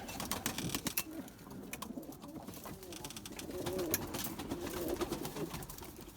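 Pigeons in a coop coo in low, soft, repeated calls amid scattered clicks and rustles of wings and feet, quiet and close, with no one speaking.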